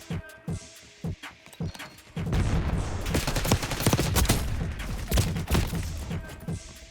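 Jackal PDW fire in Black Ops 6: a few sharp single shots, then a loud sustained automatic burst lasting a few seconds, followed by more spaced shots and clicks.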